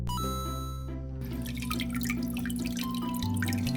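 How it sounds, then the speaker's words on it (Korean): Water dripping and trickling steadily from a rain bar into a frog tank, a patter of small drops over a constant low hum. "이 빗소리처럼 물이 떨어지는 이 물소리를 들으면서"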